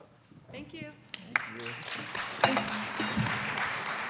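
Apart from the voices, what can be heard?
audience applauding the panel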